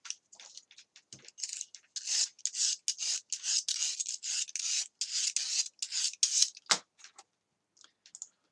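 Someone sands a toy pirate sword by hand in quick, raspy strokes of abrasive rubbing, close and fairly quiet, with short pauses between bursts.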